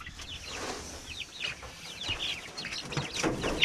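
Chickens on a family homestead cluck and chatter in a dense, overlapping flock, close and steady throughout with short rising calls layered on top.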